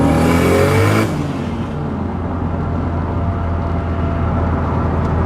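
A Toyota Supra with a T56 gearbox accelerates hard in fourth gear, a loud, close engine roar with climbing harmonics that drops sharply after about a second into a steady, lower rushing drone.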